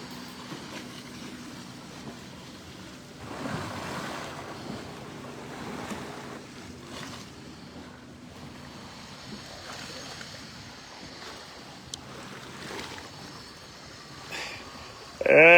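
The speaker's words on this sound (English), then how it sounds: "Now this water is moving." River water rushes and laps steadily with broadband washing noise, wind buffeting the microphone, and a faint boat engine hum underneath.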